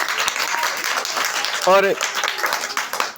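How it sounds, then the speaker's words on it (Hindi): Applause from a quiz competition audience as three contestants are praised, dense clapping running throughout with a brief spoken word and a bit of talk cutting in over it. "तीनों के लिए ज़ोरदार ताली होनी चाहिए"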